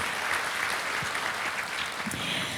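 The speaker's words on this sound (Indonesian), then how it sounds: "Tepuk tangan dulu yuk buat Tuhan kita Yesus Kristus." A church congregation claps steadily and densely, a dense wash of many hands applauding throughout, fairly loud with no talking.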